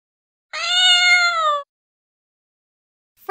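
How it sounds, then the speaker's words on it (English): A single clear, drawn-out cat meow lasting about a second, loud and close, followed by silence and the start of a second meow at the very end. "Cat."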